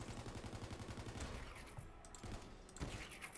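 Rapid automatic gunfire from the player's gun while hitting a target as Zane, a steady quick rattle of shots kept at fairly low volume.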